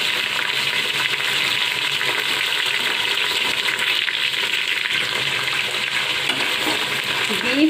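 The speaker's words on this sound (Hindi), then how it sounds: "गरम ऑयल था इसलिए काफ़ी आवाज़ें दे रहा है" Half a kilo of beef and onions frying loudly in hot oil for beef nehari, a dense, steady sizzle that stays near and constant throughout.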